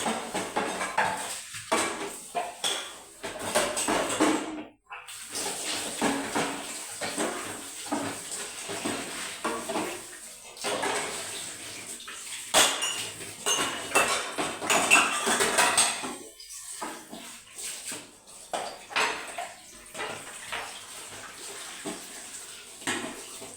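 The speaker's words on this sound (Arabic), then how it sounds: "غسلت المواعين بقى" Dishes, pots and cutlery are washed in a home kitchen under a running tap, with water hissing and splashing while plates and utensils clink and clatter irregularly, close and busy, with brief pauses.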